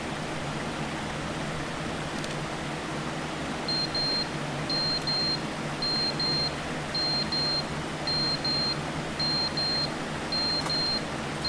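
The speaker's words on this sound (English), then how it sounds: "Something's beeping." Electronic beeping in The Stanley Parable: Ultra Deluxe, a steady series of short, evenly spaced high beeps repeating for several seconds over a constant background hiss.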